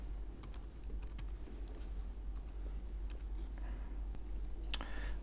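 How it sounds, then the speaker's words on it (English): A software authorization code is typed on a Mac computer keyboard as a steady run of light, close key clicks over faint background hum, with no talk. "We're going to go ahead and type that in."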